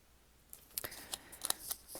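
Several quiet, separate snips of scissors cutting out a paper sticker for a creative daily journal, a handful of short crisp cuts spread over a couple of seconds, close and soft.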